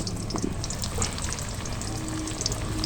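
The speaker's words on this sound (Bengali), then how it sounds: "আমার আলু ভাজাটা হচ্ছে, একটু হলুদ দিয়ে দিয়েছি আমি" Potato pieces frying with turmeric in hot oil, a steady dense sizzle with fine crackling pops that holds at an even level throughout, close and fairly quiet, with no voices.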